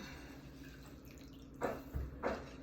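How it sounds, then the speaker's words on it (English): Water squeezed by hand from soaked dry noodles while making cha gio, heard as two brief wet splashing bursts that stand out over a low steady background hum. "now that it's soft enough to work with, I'm gonna squeeze out the water here"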